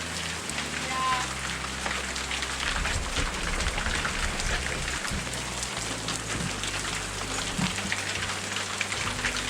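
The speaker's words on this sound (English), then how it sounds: "there was that hail I was talking about not hitting the tree" Hail pelting a home garden with roses and flowering plants, a dense steady patter of hard drops on leaves and ground throughout, with low rumbling background noise.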